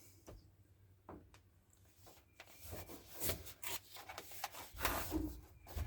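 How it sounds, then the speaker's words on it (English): Backing paper peeled from a Hushmat sound and temperature insulation sheet during a full-size Jeep install, heard as soft, fairly quiet rubbing and tearing rasps with scattered light taps that build slightly louder toward the end. "Sometimes I like to start with just one corner of it and work my way around, peeling it off as I go."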